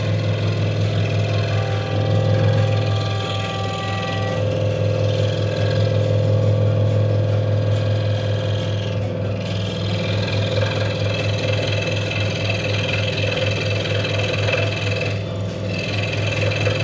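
A scroll saw buzzes steadily as it cuts a wood piece for intarsia, a continuous loud mechanical drone with little change and no talk.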